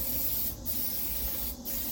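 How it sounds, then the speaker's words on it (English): A close, steady spray hiss runs continuously, with two brief breaks where the nozzle is released and pressed again. "Spray it."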